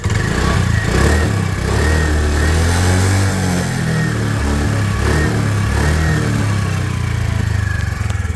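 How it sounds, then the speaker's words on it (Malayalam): A nearby motorcycle engine revs repeatedly, rising and falling in pitch over a continuous loud idle, with no voices. "ഇനി ജസ്റ്റ് ഒന്ന് റേസ് ആക്കാൻ കിട്ടും"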